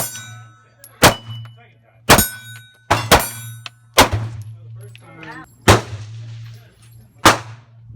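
A Walther PPS M2 pistol fires seven sharp shots at 15 yards, each a loud crack with a ringing clang, spaced roughly a second apart over a low steady hum, one pair coming in quick succession.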